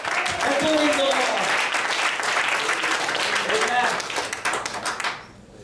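A church congregation claps hands together in a loud, sustained burst of applause mixed with voices and calls, which tapers off and stops near the end.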